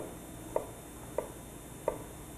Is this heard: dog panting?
no